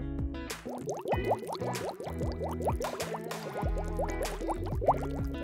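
Cooling water for a K40 laser, pumped through a fan-cooled radiator, past the laser tube and a flow indicator, pours back into a storage container with rapid gurgling, bubbling and dripping splashes, close and continuous.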